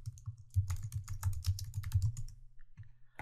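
Someone types on a computer keyboard in a steady run of quick, close clicks that thin out and stop near the end.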